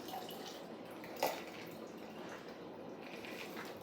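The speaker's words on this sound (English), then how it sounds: "We're just gonna pour it into" Lemonade cocktail poured from a shaker into a glass, a quiet liquid trickle with a brief splash, close and low.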